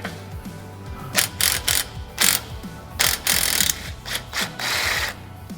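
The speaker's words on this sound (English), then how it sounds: "reverse your 9/16 socket and reverse the shuttle all the way back to the starting point" A 9/16 socket wrench ratchets repeatedly while reversing the shuttle of a OneTen cable railing tensioner, giving bursts of rapid clicking with brief pauses, close and fairly loud, with no talk.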